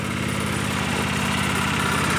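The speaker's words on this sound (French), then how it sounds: "Moteur qui tourne parfaitement rond, hein." A generator engine running entirely on hydrogen, with no petrol, idles steadily and evenly with a smooth, continuous drone close by, and nobody speaks.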